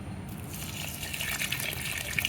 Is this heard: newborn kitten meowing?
no